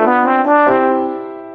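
A trombone in a Mickey Mouse Clubhouse video game sounds one sustained brassy note that slides a little in pitch for about a second and a half, loud and close, ending in a short click.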